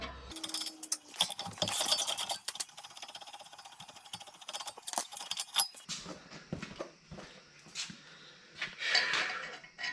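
Half-inch drive ratchet with a 21mm socket loosening brake bolts on a Jeep Wrangler JK, with intermittent clicking and metallic clatter from tools and parts in a garage, close but fairly quiet, and no talking.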